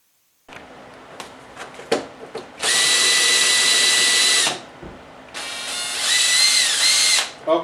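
A drill stirs two-part epoxy for a countertop coating in two loud, close bursts of steady motor whine, each a couple of seconds long, with small knocks and handling clatter between them and no talk.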